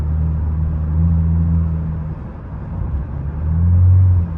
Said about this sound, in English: I love the drone in this car.